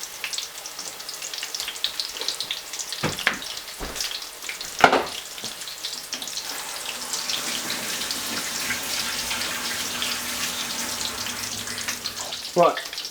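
Onion bhajis fry in a pan of hot oil with a steady, close sizzle, broken by a few soft clinks and knocks, while a voice murmurs faintly in the background.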